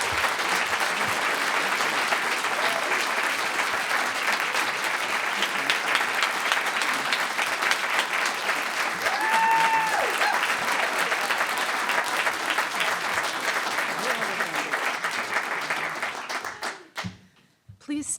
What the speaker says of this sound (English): how about we give these brilliant storytellers another round of applause